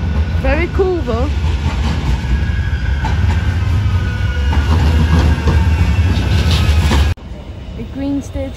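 A bendy tram rolls past loudly on a Manchester street, its steady low rumble and wheel noise filling the scene with a few high squeals, while people talk over it before it cuts off abruptly.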